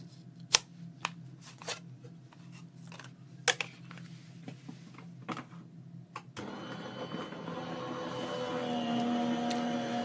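Scissors cut out paper pieces for a memory album in a few scattered, crisp snips over a low hum, before a broader rustling, whirring noise takes over.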